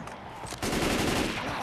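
Sustained automatic gunfire in the zombie shooter Left 4 Dead 2, a quiet lull giving way to a loud, dense stream of rapid shots that carries on to the end.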